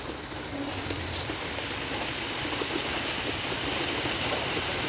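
Steady rain falls on a house rooftop, a continuous dense patter holding even and close for the whole stretch with no voices over it.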